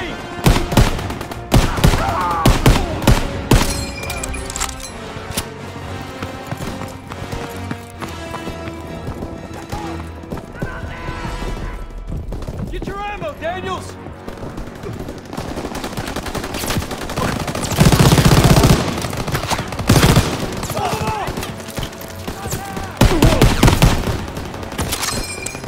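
Dense, chaotic battle in Call of Duty WWII: rapid gunfire and machine gun bursts layered with hoofbeats and horse sounds, loud throughout and swelling in heavier volleys near the end.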